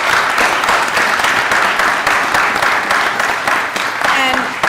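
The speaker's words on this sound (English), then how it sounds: "So please give a big round of applause for all of our volunteers." Audience applause for volunteers at an Indian classical music evening, steady dense clapping across the whole span with a voice starting up near the end.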